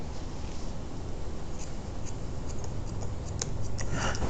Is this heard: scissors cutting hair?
yes